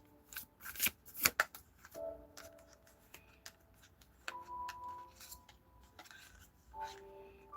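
Tarot cards shuffled by hand during a reading, with a few quick riffling bursts and scattered soft card taps and slaps, close up, amid faint background tones.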